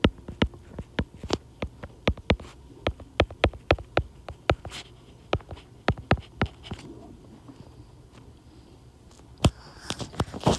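Marker or chalk tapping and scratching on a board while a math problem is worked out, a loose series of sharp, close clicks and strokes in irregular bursts, with a quiet gap before a few more taps.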